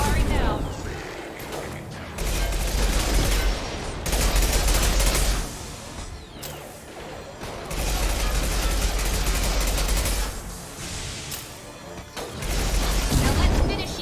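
Rapid bursts of automatic gunfire and heavy impacts from the video game Mass Effect 2 come in loud repeated volleys separated by brief lulls, with voices talking over the combat.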